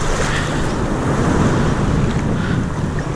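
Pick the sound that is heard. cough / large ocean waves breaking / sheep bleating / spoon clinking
large ocean waves breaking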